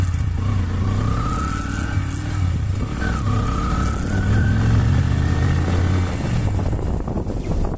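Motorbike being ridden, a continuous close engine drone with rising and falling pitch as it revs and shifts, loud and steady over rushing wind noise, with no talking.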